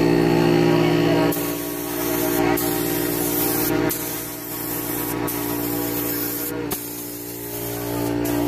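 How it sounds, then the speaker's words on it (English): Spray gun laying clear coat on a Kia Optima bumper, a loud continuous hiss in long passes broken by a few brief pauses. "We start laying the first coat of clear."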